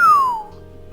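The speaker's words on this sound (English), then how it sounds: "He gets one look at me and whistles loudly." A man gives a loud, close wolf whistle in the game Criminally Yours: one bright tone that glides downward and fades out after about half a second, followed by quiet background.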